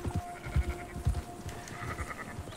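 Sheep bleat repeatedly in the Red Dead Redemption 2 game world, several short nasal calls spaced through the moment over low thumping hoofbeats and ambient game sound, with no talking.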